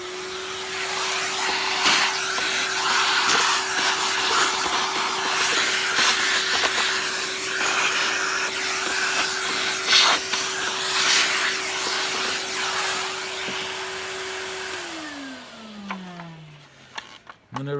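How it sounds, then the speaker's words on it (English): A Hoover Turbopower Junior U1426 upright vacuum cleaner runs loud and close with a steady high whine for about fifteen seconds, with a few knocks and bumps, then is switched off and winds down. "Get the vacuum."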